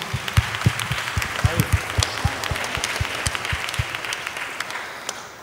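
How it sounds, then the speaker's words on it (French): A conference audience at a talk on the Casablanca School of Fine Arts archives claps, individual sharp hand claps standing out in a moderate room, tapering off toward the end. "On applaudit, bien sûr."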